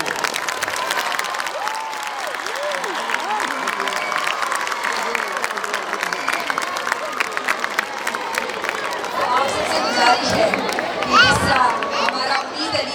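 A school play audience claps and cheers in a large hall, with dense, steady applause throughout and a crowd murmuring beneath it, swelling slightly toward the end.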